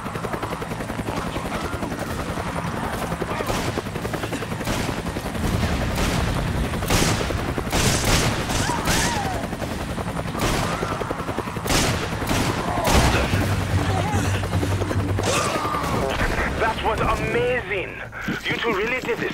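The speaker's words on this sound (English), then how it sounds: "Gunfire." Bursts of gunfire crack repeatedly over a constant helicopter drone in Resident Evil 5 Versus on PS4, with shouting voices and explosions mixed into a busy battle scene.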